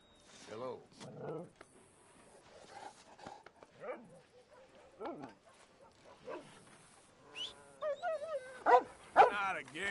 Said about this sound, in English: I'm petting a dog.